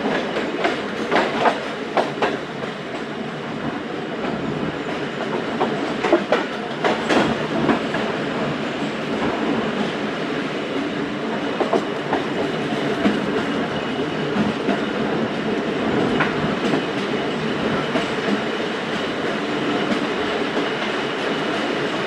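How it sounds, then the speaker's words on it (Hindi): A Musapak Express passenger train rolls past at night at Lahore Cantt with a steady, loud rumble. Wheels clack rhythmically over rail joints throughout, and faint squeals come through the noise. No one speaks. "दोस्तों ट्रेन पास हो रही है लाहौर कैंट।"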